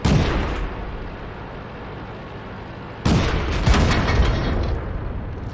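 Ammo rack explosions of tanks in World of Tanks on a test server, a heavy continuous rumble of blasts with a fresh loud burst midway and several sharp booms following, no talk.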